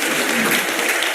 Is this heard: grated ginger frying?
no